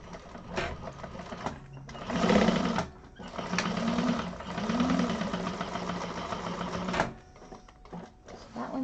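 A sewing machine bastes a slip pocket in place, running in loud, close bursts of stitching separated by short pauses.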